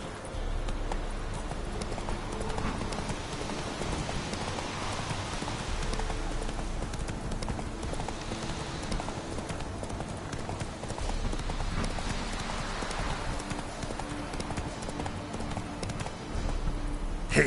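Roach, a horse in The Witcher Wild Hunt, trots with a steady clip-clop of hooves, close and constant, backed by a faint patter like rain in the game world.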